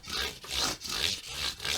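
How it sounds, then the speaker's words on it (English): A Stratocaster electric guitar body being hand-sanded, the abrasive rasping back and forth over the wood in a steady rhythm of long strokes, close and continuous with no talking. "sanding over"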